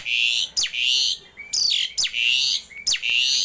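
A male Asian pied starling calls repeatedly and loudly up close, sharp shrill whistles with brief descending notes, about five bursts with short gaps between them.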